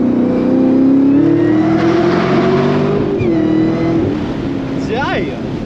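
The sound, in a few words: Camaro ZL1 car accelerating on curvy roads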